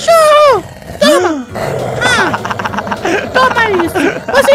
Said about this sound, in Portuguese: Ele quer me morder! Para com isso, cachorro!